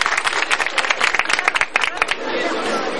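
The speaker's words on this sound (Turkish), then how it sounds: "bu alkış ATV'ye" Applause from a big outdoor crowd in Hivde, honoring a TV news team: many hands clap loudly for about two seconds, then fade into a diffuse crowd murmur and chatter.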